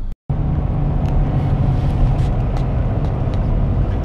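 A car cruising steadily along a road in winter, with a continuous low engine and tyre rumble close by after a brief silent gap at the start.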